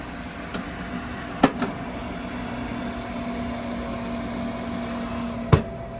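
An oven hums steadily as a tray of Super Bowl nachos goes in at 400 degrees, with a few sharp door clicks and knocks near the start and one near the end.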